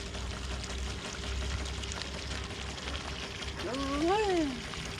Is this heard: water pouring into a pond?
yes